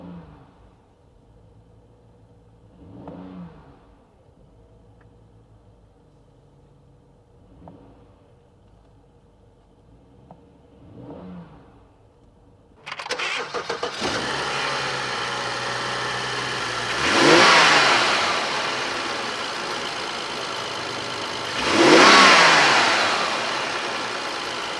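A BMW 535i F10 with a stock intake heard from inside the cabin: a low idle with soft blips, then the engine fires into a louder steady drone with two strong revs swelling up and falling back.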